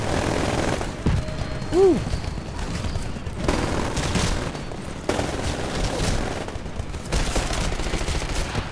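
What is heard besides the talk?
auto pistol gunfire in Titanfall video game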